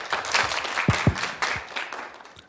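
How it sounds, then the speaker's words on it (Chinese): An audience at a professional training course gives warm applause to welcome a teacher, with individual sharp claps standing out near the front and a few voices mixed in. "今天同学我们就用最热烈的掌声来欢迎世勇老师带给我们精彩的"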